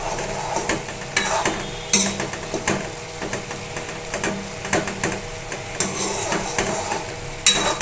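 Potatoes being stirred with white poppy seed paste in a pan for aloo posto, a steady run of scraping, clattering stirs with faint sizzling beneath, close and moderately loud, with no talking.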